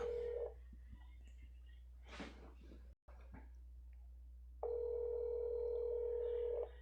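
A telephone call to a number rings out, with a steady tone repeating in long bursts, separated by quiet gaps and a brief dropout, close and clear with no talking.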